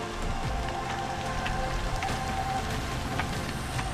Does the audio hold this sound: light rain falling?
yes